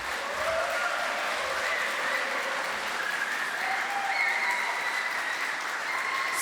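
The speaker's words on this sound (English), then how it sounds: "I would like to ask for a round of applause for Eva and Paweł for organizing that." Sustained applause from an awards gala audience, steady and full throughout, with a few faint whistles or cheers rising above the clapping.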